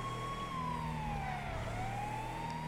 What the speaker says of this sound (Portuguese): pessoal não sabe que quando ouve sirene tem que sair da frente